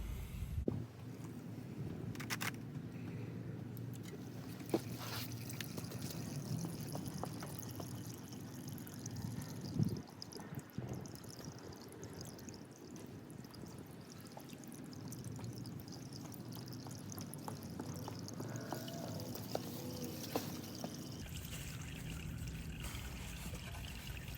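Engine oil draining from a 2017 Honda Africa Twin DCT motorcycle during an oil change, a steady continuous trickle and pour that runs unbroken at moderate level with no voices.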